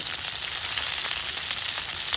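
Small chicken pieces frying with onion and garlic in a wok, giving a dense, loud, steady sizzle close by with no talk.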